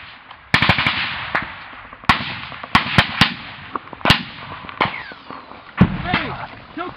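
Sharp cracks of gunfire during combat in Afghanistan, single shots and short bursts echoing across open ground at mid distance, loud reports each trailing off into reverberation, with voices shouting faintly between them.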